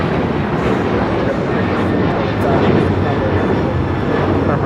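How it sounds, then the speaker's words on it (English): A United Airlines Boeing 777-200ER in from Dulles lands on runway 25 left at LAX, its broad, steady engine roar filling the scene at close range, with voices talking faintly underneath. "This is United Airlines Flight 667 coming in from Dulles, and this 777-200ER arriving on 25 left"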